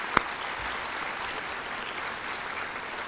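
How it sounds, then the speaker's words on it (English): Steady applause from an audience at a high school National Honor Society ceremony, a dense even wash of clapping held for several seconds with one sharp near clap at the start. "So if we could give them a round of applause, I'd really appreciate it"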